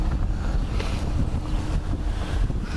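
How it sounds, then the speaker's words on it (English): Steady outdoor wind roars across the microphone, a loud continuous buffeting rush with no talk, heard on a camping trip while travelling on the highway. "the wind, it feels good"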